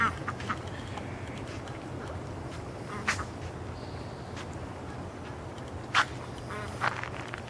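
Ducks and chickens come running in at night, giving a few scattered quacks and clucks over a constant background hiss of insects, fairly distant and without talk.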